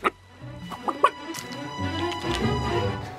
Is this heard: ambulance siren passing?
no